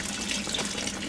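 Tap water runs steadily at a barbershop as hair is rinsed, a close, even wash of flowing water with no talk over it.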